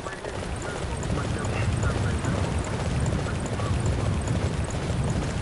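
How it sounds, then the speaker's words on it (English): Horse hooves clip-clop steadily in a video game while a rider builds up a stable of horses, the rhythmic footfalls running continuously under a dense wash of game sound effects. "I didn't mean to get this horse."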